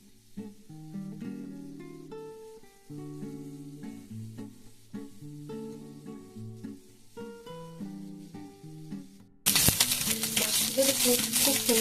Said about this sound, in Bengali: এই মাছগুলো ভাজতে একটু বেশি তেলের প্রয়োজন